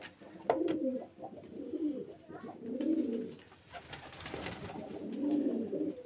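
Desi Giribaz pigeons from Murshidabad, offered for sale, coo in low rolling bursts that come back every couple of seconds. The cooing is close and clear over a quiet background.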